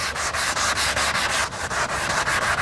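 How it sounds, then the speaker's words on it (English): Rhythmic back-and-forth sanding of a panel with a soft sanding block, a loud gritty rasp repeating in quick even strokes close by, with nothing else heard. "You can take and start sanding with it."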